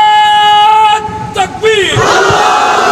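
A large crowd at a religious sermon roars back a loud collective shouted response, rising after a sustained preacher's call and swelling into a dense wall of voices.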